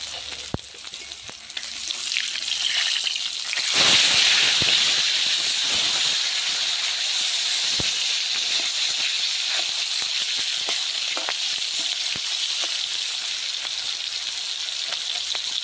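Fish fries in hot oil with a loud, steady sizzle that jumps up sharply partway through, crackling and spitting close by without pause.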